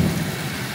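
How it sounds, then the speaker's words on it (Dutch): Heavy rain pours during a violent thunderstorm, a loud, dense roar of low rumble and hiss that fills the brief moment with no voices. "Oh, dat was weer een harde knal."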